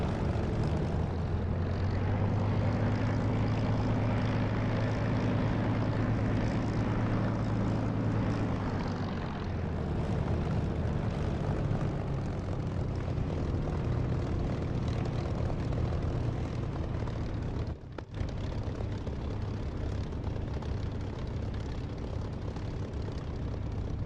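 Propeller engines of A-20 bombers drone steadily in a flight simulator game, a continuous, even hum that dips slightly in pitch midway, with a brief dropout near the end.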